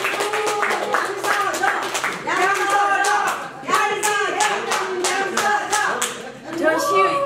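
A room at an academic seminar gathering breaks into brisk group hand clapping, sustained and close, with voices talking over the applause throughout.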